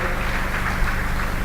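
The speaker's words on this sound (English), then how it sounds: "A big round of applause for her once again" Audience applause at a Nigerian tech conference after a welcome speech, dense and even like rain, continuous for the whole moment.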